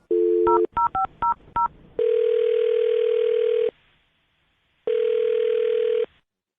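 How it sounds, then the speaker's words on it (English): Telephone keypad tones dial a phone number, a quick run of short DTMF beeps followed by a long steady dial-style tone, a gap, then another long tone; clear, close and loud with no talk. "I'm going to dial her phone number right now"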